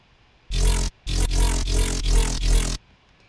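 A sustained Serum synth dubstep bass tone through a reverb filter, bright and heavily filtered, pulsing in five swelling bursts with a sweeping modulated resonant shimmer, then cutting off.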